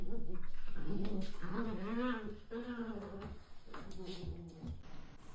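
A dog, apparently a Great Dane puppy, growls and whines in low, wavering rumbles over several seconds, up close, while a person talks at the same time.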